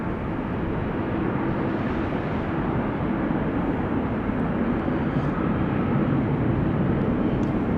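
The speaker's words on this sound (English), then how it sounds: "KLM A330 on the move." A KLM Airbus A330 moves at Amsterdam Schiphol Airport, giving off a steady, broad jet engine roar that holds at a constant level throughout, with no voices.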